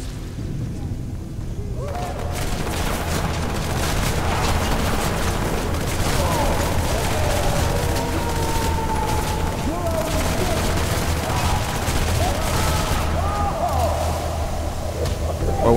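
Gunfire in the isometric shooter game Hatred, a dense, steady barrage of shots and booms filling the whole stretch after a quiet opening, with a voice talking over it.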